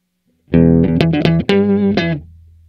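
Electric guitar through a Walrus Audio Luminary octave pedal set one octave down, a loud, thick riff of several rich doubled notes played in quick succession, ending on a sustained note that fades out, with no talking.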